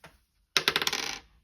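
A die clatters and rattles across a hard surface in a quick burst of tumbling clicks that settle after about half a second, close and crisp in a quiet room.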